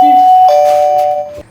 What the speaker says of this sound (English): You've got a doorbell